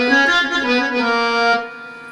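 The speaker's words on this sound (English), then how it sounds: "a sound that sounds very similar to a harmonium" A sustained harmonium-like tone on a Yamaha MX49 keyboard blends an organ voice with an ethnic patch, holding rich, steady chords for about two seconds before fading out.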